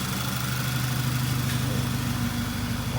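A Volkswagen GTI MK6 engine running steadily at a low, even idle, loud and close throughout with no talk.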